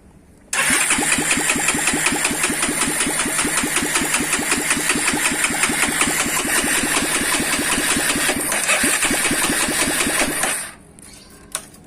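A Honda Tiger motorcycle engine cranks and catches, then idles loudly and steadily with a rapid mechanical rhythm for about ten seconds before cutting off abruptly, leaving a brief quiet tail with one small knock.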